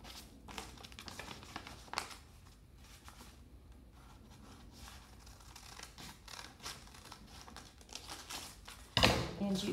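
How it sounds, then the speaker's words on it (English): Scissors cut a triangle out of a paper envelope, quiet close snips and paper crinkles in an uneven series, with a louder rustle near the end. "So I'm gonna cut along my triangle,"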